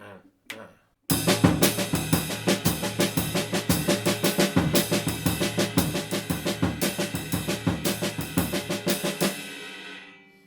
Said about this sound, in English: the result is going to be constant eighth note triplets broken between the snare drum and bass drum